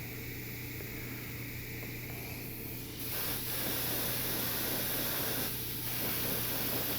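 Paint from an aerosol or airbrush sprays onto a towel at a desk, with a steady close hiss that cuts in and grows louder partway through, then briefly dips before continuing, with no voices over it.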